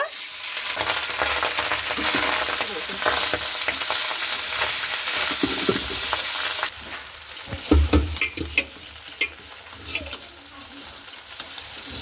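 Rice with cinnamon, cardamom and cloves sizzles steadily in hot ghee, then quietens as a spoon stirs and scrapes the pan in a run of sharp clinks.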